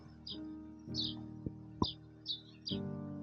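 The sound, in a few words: birds chirping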